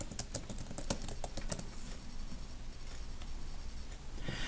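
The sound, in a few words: typing search terms on a computer keyboard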